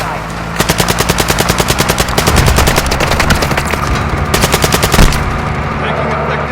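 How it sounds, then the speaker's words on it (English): Loud, close machine gun fire in the video game Warzone 2 comes in rapid sustained bursts, with a steady stream of shots, a short pause and then another burst, over a background engine drone. "Taking effective fire."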